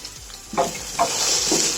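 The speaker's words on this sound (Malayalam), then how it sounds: "ഇതെല്ലാം കൂടെ നന്നായിട്ടൊന്ന് വഴറ്റി കൊടുക്കണം." Carrots, potato and green chillies sauté in a pan with a steady close sizzle, broken by a few spoon-stirring scrapes that push the sound up briefly.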